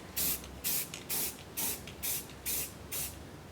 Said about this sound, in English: So I'm trying to spray from this angle here.